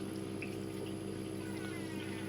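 Aquarium filter output pushed through a spray bar made from drilled electrical conduit, giving a quiet, steady splashing and trickling of water over a constant low pump hum.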